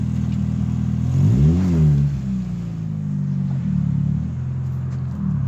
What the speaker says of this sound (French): Ça fait un bruit rallye cette voiture.